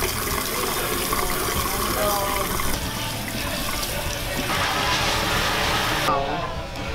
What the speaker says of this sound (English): Now, we are gonna wash my hair.